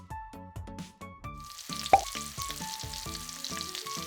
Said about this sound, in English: Now cover and cook over medium-low heat for 10 minutes.